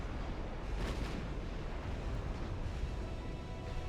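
Naval gunfire from battlecruisers in the warship game Ultimate Admiral Dreadnoughts rumbles as a continuous, heavy low roar of distant booms, with one stronger burst near the start and no voices.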